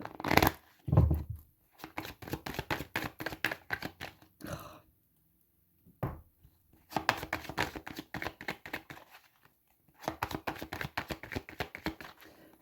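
A deck of tarot cards is shuffled up close in several quiet bursts of rapid riffling and flicking, separated by short pauses.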